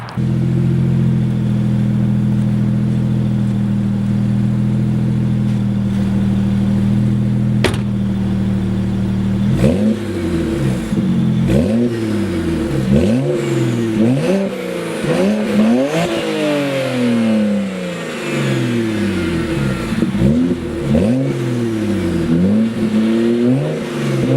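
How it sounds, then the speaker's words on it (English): A BMW 335i with an N54 engine idles with a low rumble, then is revved repeatedly in rising and falling bursts, loud and close, with no talking. "But I'll do some revs right now."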